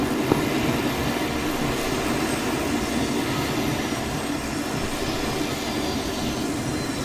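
A steady, roaring aircraft engine drone from the video game Arma 3 holds at a constant loud level throughout, with no pauses or voices.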